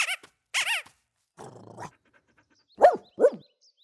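Cartoon dog growling and panting in a children's animated garden digging scene: a few short, close growls and yelps in separate bursts with pauses between, no talk.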